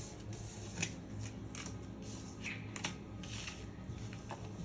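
Tarot cards shuffle in soft, quick riffling bursts with brief pauses between them, close and quiet.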